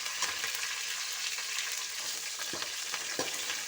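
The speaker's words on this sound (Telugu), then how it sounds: "కరివేపాకు వేసుకొని కలుపుకోవాలి." Curry leaves frying in hot oil for a flattened rice and puffed rice snack, a bright, constant sizzle with a few soft stirring scrapes, near and moderately quiet, with no talking.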